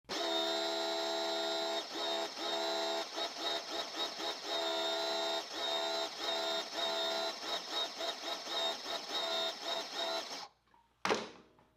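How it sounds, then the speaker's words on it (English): A budget $99 Amazon electric pressure washer running up close with a loud, steady buzzing motor whine that pulses rhythmically, then shuts off abruptly with a brief clunk and near silence. "We will run the pressure washer and then we'll see how much is in there."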